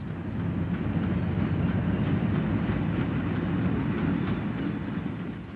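British 2,000 horsepower diesel-hydraulic express locomotive of the 1950s running along the railway, a dense low rumble and rolling wheel noise that swells in and holds steady at close range.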